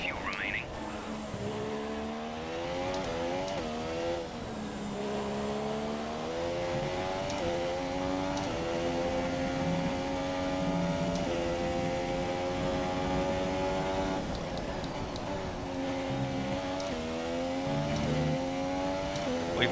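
A 2017 Williams Formula 1 car in F1 2017 racing, its high-revving engine whining steadily with repeated gear shifts and rises and falls in pitch, over faint track noise.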